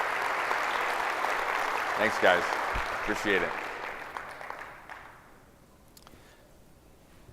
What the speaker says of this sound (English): Let's give them a round of applause as this year's Shaping Smart Change honoree.